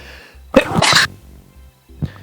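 One loud, close sneeze with a sharp intake and explosive burst, over a low background hum, followed by a faint short sound.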